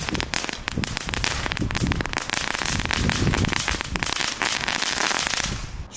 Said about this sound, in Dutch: Het is zo veilig vuurwerk, je kan er bijna de camera ophouden gewoon.